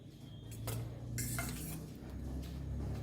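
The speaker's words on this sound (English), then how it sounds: "Now I will just mix this and keep this" Eggs, allspice powder and other Christmas plum cake ingredients are mixed in a bowl, with a spoon scraping and clinking against the side in close, irregular strokes and no talk.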